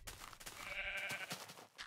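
A single faint sheep bleat in Minecraft, a short wavering cry near the middle against low background noise.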